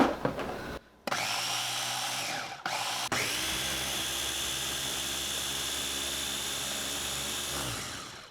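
A blender running on a garlic cilantro sauce, a steady high whirring motor that cuts out briefly twice near the start, then runs continuously and loud before spinning down at the end.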